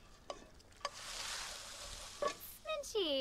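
Pan sizzling on a stove in The Sims 4 kitchen, a soft steady frying hiss swelling in the middle, with short clinks and a brief voice-like chirp near the end.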